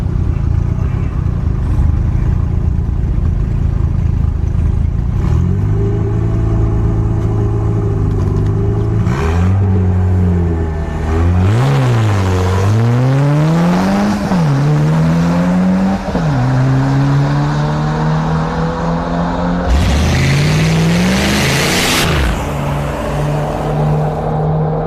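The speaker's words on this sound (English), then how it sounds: "Turbo wagon going up against this X5." A turbocharged wagon and a stage 2 full-bolt-on BMW X5 35i F15 run side by side down a drag strip. Loud engines rev hard through repeated gear shifts with rising and falling pitch, and a burst of roaring noise closes the run.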